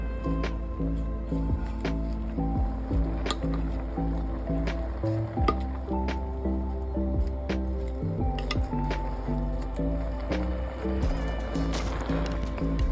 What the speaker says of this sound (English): And then we add the napa cabbage. And then we mix it well.